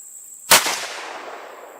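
A single suppressed shot from a CVA Scout rifle in .35 Whelen firing Remington Core-Lokt ammunition, a sharp loud crack followed by a short fading echo across an open range.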